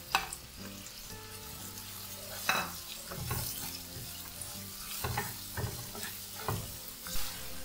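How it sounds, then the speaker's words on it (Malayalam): One large onion sautéing in hot oil for Malabar-style egg curry, a steady close sizzle with intermittent scraping stirs of the spoon against the pan, no voices. "നല്ല പോലെ ഒന്ന് വഴറ്റിയെടുക്കണം."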